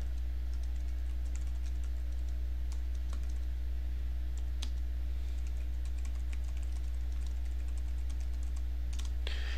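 Someone types an assignment description on a computer keyboard, with scattered soft key clicks over a steady low electrical hum and background hiss.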